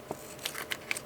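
Scissors cutting off excess envelope paper, a few short crisp snips and light paper crinkles in quick succession, close and faint.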